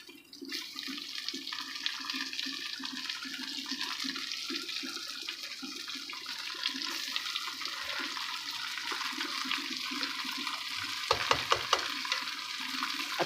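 Chicken and onions frying for chicken karahi, being stirred in a pan: a steady close hiss and sizzle with soft repeated scraping strokes and a few clinks near the end.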